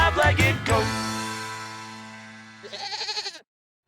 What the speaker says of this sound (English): It's a five-legged goat.